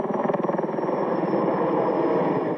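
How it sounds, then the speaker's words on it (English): A Huey helicopter and a large Erickson heli-tanker work over a bushfire near the coast, giving a steady, loud rotor roar with faint rhythmic blade thumping that fills the whole stretch without any talk. "The Huey chopper and off the coast the massive Ericsson heli-tanker sucking up seawater before shutting down the blaze."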